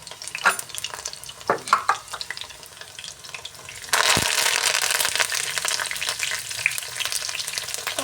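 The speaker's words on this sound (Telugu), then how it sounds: "ఒక 2-3 నిమిషాలు వేగనిద్దాము." Chicken 65 frying in a pan over high flame, a steady dense sizzle that swells sharply halfway through and holds loud, with scattered crackles and pops throughout and no talking.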